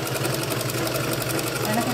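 A sewing machine stitches folded-over fabric while making a double-layered blouse bodice, running steadily and close up with a continuous mechanical whir and a fast rhythmic stitching pulse throughout.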